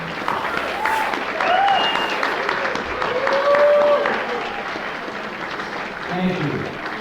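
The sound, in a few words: audience applause for veterans and first responders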